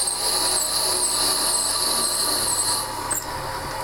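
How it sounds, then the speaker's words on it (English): A drill bit is fed into a workpiece clamped tight to a machine bed, giving a steady high-pitched whine and squeal that holds for several seconds before easing off. "And just start feeding that drill bit in."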